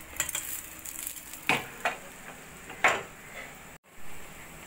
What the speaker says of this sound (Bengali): একইভাবে আর একটা ডিমও আমি ভেজে নেব।